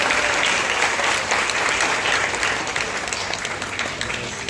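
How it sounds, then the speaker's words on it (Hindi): An audience claps together at a church youth foundation day celebration. The applause is steady and dense and carries on at moderate volume for several seconds before tapering slightly. "चलिए दोनों ताली मारिए।"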